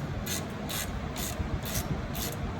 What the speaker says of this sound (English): All I have is this long ratchet because I like mechanical advantage.